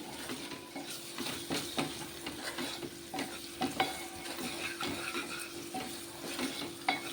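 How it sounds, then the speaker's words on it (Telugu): Ginger garlic paste and onions fry in oil in a pan for a raw prawn curry, giving a steady sizzle with repeated scraping stirs throughout, close and moderately loud, with no talking. "ఇదిగోండి అల్లం వెల్లుల్లిపాయ పేస్టు. ఇది కూడా బాగా నూనెలో వేగనిద్దాము."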